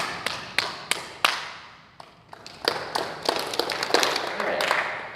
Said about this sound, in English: Can you copy me clapping?